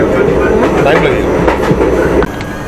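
The Secunderabad–Darbhanga Express runs along the rails with a loud, steady rumble and rhythmic clatter of wheels heard from onboard, continuous throughout with a brief drop near the end.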